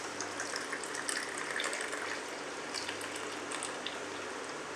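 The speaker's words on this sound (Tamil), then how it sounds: "இப்போ இந்த டீயை வடிச்சு ஊற்றிக்கலாம்." Coriander, honey and ginger tea is strained and poured, giving a soft, steady splashing trickle of liquid, close by and fairly quiet, with no voices.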